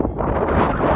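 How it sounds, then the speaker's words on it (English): Wind gusts steadily across the microphone outdoors near the Mexico border, producing a loud, continuous rumbling buffet. "A little bit windy here."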